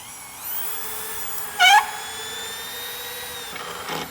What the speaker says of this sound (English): So Al will finish up fastening this.